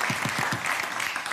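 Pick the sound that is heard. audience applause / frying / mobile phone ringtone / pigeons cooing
audience applause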